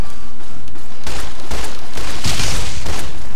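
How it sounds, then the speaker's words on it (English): Weathered 10mm pistol shots in Fallout: New Vegas, several sharp loud cracks in quick irregular succession with booming tails, very close and alone. "this is a weathered 10mm pistol you get pre-ordering the game at GameStop"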